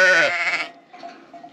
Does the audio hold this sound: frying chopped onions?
no